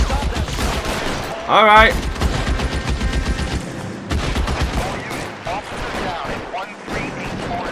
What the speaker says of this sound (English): he is shooting way more rounds than you think he should